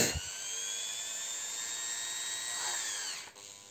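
A small rotary burr grinding a hole through resin, a faint high-pitched whine running steadily for a few seconds, starting with a brief knock and dipping in pitch near the end.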